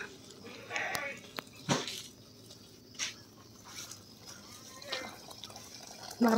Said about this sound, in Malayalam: ആ കുഞ്ഞ് ആട് ചാടിപ്പോ നിന്നു